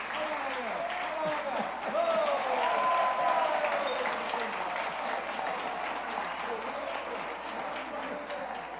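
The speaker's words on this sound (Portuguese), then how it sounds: "E vamos aplaudir, que ela não se assusta, não." Church congregation applauding a little girl during a celebration service, a steady wash of clapping that swells around the second to fourth seconds, with voices talking and calling out over it throughout.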